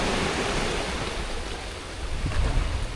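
Ocean waves on the north coast of Trinidad near Fort Abercromby, a steady loud wash of surf with wind noise, swelling slightly toward the end, no voices.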